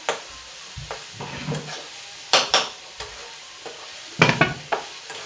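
Spoons scrape and clink against a pan in scattered strokes while a vegetable dish cooks, with a faint sizzle underneath and a few sharper metallic knocks.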